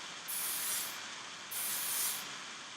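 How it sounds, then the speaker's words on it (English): Hairspray hisses out of an aerosol can onto freshly curled hair in two steady bursts of about a second each, close and fairly loud, with a short pause between them. "I'm going to spray just a little bit of spray"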